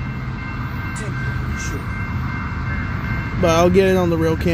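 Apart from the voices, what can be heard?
freight train approaching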